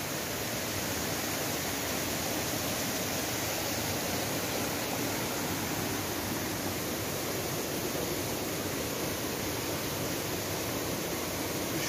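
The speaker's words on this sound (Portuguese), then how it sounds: "Essa cachoeira é muito bonita." A waterfall on the Macacu river roars in a steady, loud, dense wash of falling water that fills the scene without pause.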